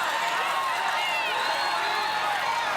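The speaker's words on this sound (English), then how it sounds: "And the crowd erupting." A large crowd cheers and roars continuously beside a Ninja Warrior obstacle course, a bright, sustained wall of excited voices with no pause.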